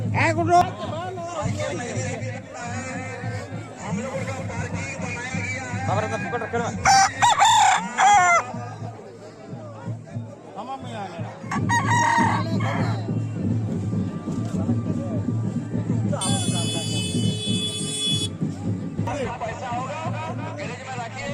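Roosters crow at a crowded village cockfight during a Tusu fair in Kankrajhor, the calls rising over a steady hubbub of many voices and people talking nearby.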